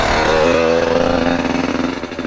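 A Yamaha YZ85 two-stroke dirt bike is ridden nearby, its engine buzzing and revving loudly with a shifting pitch before easing off slightly.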